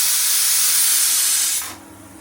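A pressure cooker with chickpea dal lets out a loud, steady jet of hissing steam, close by, that cuts off sharply after about a second and a half, leaving a faint hum.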